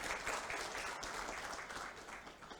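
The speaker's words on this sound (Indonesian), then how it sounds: "Untuk Bang Erick Thohir saya minta tepuk tangannya." An audience at a university Dies Natalis honorary alumni ceremony applauds Minister Erick Thohir, dense, even clapping filling the hall throughout.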